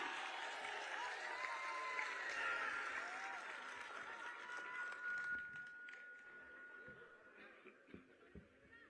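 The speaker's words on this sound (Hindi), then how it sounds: "जोरदार ताली बजा करके एक बार आप लोग स्वागत करिए, जोरदार ताली।" Crowd applause at a large outdoor political rally in Uttar Pradesh, marking the birth anniversary celebration of Maharaja Suheldev, welcoming a speaker; sustained broad clapping and crowd noise that slowly fades toward the end.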